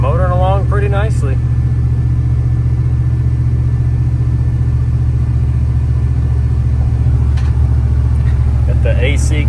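Steady low engine drone and road rumble from a Dodge Ram pickup cruising along, continuous and fairly loud inside the cab, with brief speech near the start and end.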